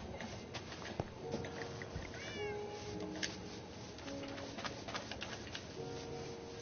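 Cat meowing inside a video game, short mews rising above a busy mix of bird calls, cooing and game sounds that runs the whole way through, with no talking.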